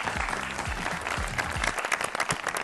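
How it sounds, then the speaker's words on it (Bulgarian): Audience applause greets a guest arriving on a Bulgarian evening TV talk show, a dense, steady wash of clapping throughout with a few faint voices beneath. "Аплодисментите се за вас"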